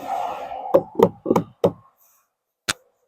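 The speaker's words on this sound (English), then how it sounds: "Tap it up until you see the chalk line" Wooden barn siding board on a post and beam barn tapped up into place beneath the fascia: four quick, fairly loud knocks in a row, a pause, then one last sharp tap, with a brief murmur of voice before them.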